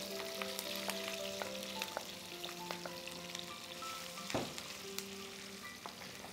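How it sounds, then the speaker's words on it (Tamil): Prawns cooking in a black pepper masala over high flame, a soft continuous sizzle with scattered pops and crackles and one louder clatter midway, heard fairly faint with no talking. "இப்போ இதில் நம்மளுடைய ப்ரான்ஸை சேர்க்க போகிறோம்"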